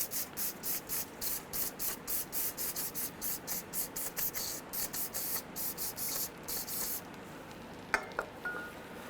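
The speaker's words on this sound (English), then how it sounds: "We're going to hit it with some brake clean." Short repeated bursts of brake cleaner spray hit greasy Honda Element strut parts, about two dozen quick rhythmic hisses close by, followed by a brief clink of metal near the end.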